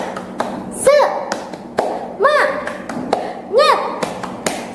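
A children's tepuk semangat clapping chant in a classroom lesson, rhythmic claps and taps alternating with three rising sung or chanted vocal calls, close and fairly loud.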